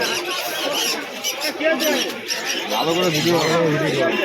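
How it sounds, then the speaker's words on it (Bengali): Pigeons coo and call at a busy pigeon market in Birnagar, their soft throaty notes mixed beneath the near constant chatter of people talking nearby. "এই যে সিরাজ পায়রা দুটো বিক্রি হয়ে গেল"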